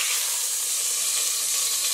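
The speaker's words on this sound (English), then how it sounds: "let it sizzle for about 4 minutes" Beef chuck shoulder roast sizzles steadily in hot oil, a close, continuous crackling hiss with no voices.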